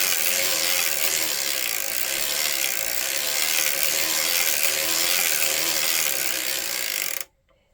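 A hand-cranked circular sock knitting machine runs while waste yarn is knitted on, giving a loud, steady mechanical whirring clatter that continues unbroken for several seconds and then stops abruptly.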